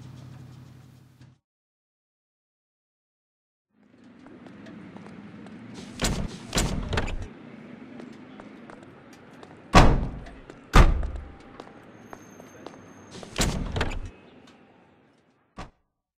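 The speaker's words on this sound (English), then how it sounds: "Literally, the car doors just opened and they closed" Car doors opening and shutting in the video game L.A. Noire: several loud, sharp door thuds and slams come in pairs over a low idling background, after a brief quiet gap.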